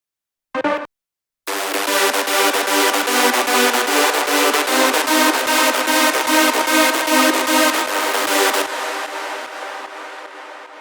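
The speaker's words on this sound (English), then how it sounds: "the white noise, the square top or the distorted square lead," After a short blip, a dense, buzzy layered distorted square-wave synth lead with white noise and chords, in a hardstyle track, pulses steadily in rapid even beats, loud and full, then cuts to a thinner sustained tone.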